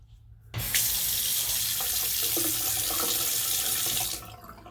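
Water gushes from a faucet into a sink in a steady, close stream for several seconds before shutting off abruptly.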